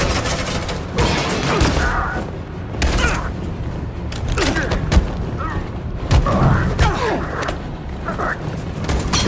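Suppressing gunfire in Detroit: Become Human: repeated loud bursts and booming impacts pound through a chaotic firefight, with shouted voices mixed among the shots.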